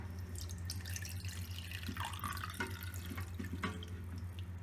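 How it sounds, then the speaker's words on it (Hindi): Turmeric and salt water drains from mango pieces for pickle, giving irregular drips and trickles of liquid over a steady low hum. "इस तरह से हमने हल्दी और नमक वाला पानी निकाल दिया है।"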